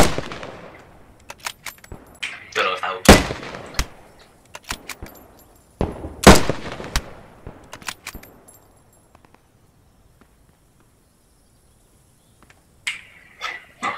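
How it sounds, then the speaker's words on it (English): Mortar shells fired on German positions in a video game, several sharp loud blasts in clusters with crackling tails, then a long quiet stretch before more bursts at the end. "I'll uh, put some mortar shells on them."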